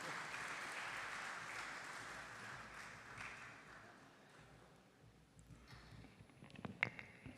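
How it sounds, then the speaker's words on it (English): An audience gives a sustained round of applause welcoming a chapter chairman to the stage at a corporate tax event. The clapping is loud and dense at first, then gradually thins and fades, with a few scattered claps near the end. "with a big round of applause"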